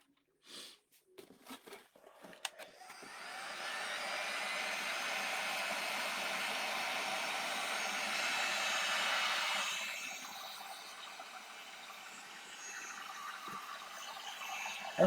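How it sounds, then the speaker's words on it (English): Close by, a hair dryer blows a steady, even whoosh over rice paper for about seven seconds before cutting to a lower setting, following some light handling clicks, with no talking. "let's get the dryer."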